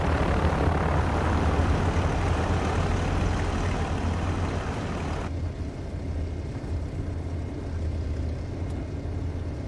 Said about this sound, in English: I think the engine sounds on the Nimbus is slightly better.